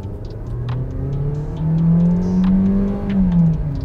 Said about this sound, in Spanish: Ahora les voy a mostrar la aceleración del Peugeot 2008 Active.